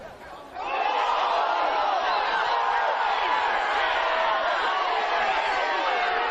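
A football crowd at the State League One Grand Final in Adelaide roars in a sustained, swelling appeal for a handball, a broad loud wall of voices rising after a brief quieter moment.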